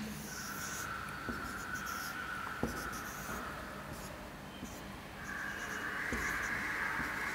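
A diagram of a hollow circular section drawn by hand: continuous faint scratching and scraping strokes with occasional small taps, close and quiet, with no talking.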